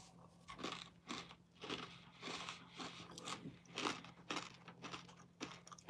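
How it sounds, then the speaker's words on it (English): Someone munches crunchy granola close by, a steady run of crisp bites and chewing crackles, with a low hum in the background. "eating some granola right now"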